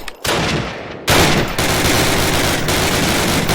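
Intense gunfire in Call of Duty, a loud, sustained fusillade of overlapping automatic weapons with sharp close shots, nearly continuous and dense from start to finish.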